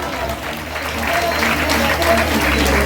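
Audience applause at a sponsored stage event in Vizag, a steady, dense wash of clapping lasting the whole moment and swelling slightly midway, with no other sound standing out.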